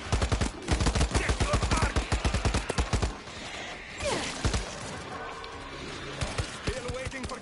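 Rapid automatic gunfire in a zombie shooter video game, a dense rattling burst for about three seconds followed by scattered, quieter shots and game effects.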